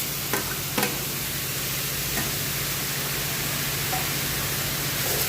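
Two cups of grated raw mango sauté in a hot kadhai, a steady close sizzle broken by a few sharp scraping strokes of stirring.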